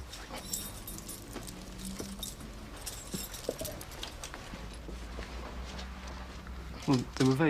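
A bunch of keys jangles as staff open up a city bank branch office, with scattered metallic clinks throughout, a few sharper rattles near the end, and voices talking over them.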